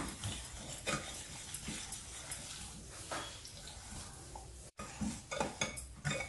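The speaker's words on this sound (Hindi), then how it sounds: "अभी हम लोग इसको अच्छे से मिक्स कर लेंगे" Curd being mixed into a batter in a bowl, with close clinking and scraping of a spoon against the bowl and soft wet stirring, broken by a brief dropout near the end.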